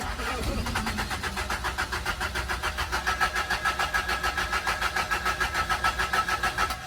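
A 1979 Toyota Corolla Deluxe engine, just started after sitting in a scrapyard, runs with a loud, rough, pulsing idle that settles into a steady rhythmic chug close by.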